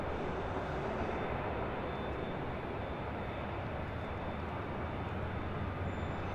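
A Southwest jet departs runway 24 left at LAX, a steady, broadband engine roar from a moderate distance holding constant throughout with no talk.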